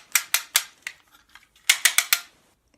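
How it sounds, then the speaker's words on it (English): Beyblade launcher ratchet cranked by hand with a Beyblade attached, giving a burst of sharp, rapid clicking, a brief pause with faint ticks, then another quick run of loud clicks close up. "So when I attach a Beyblade onto it and I start cranking it,"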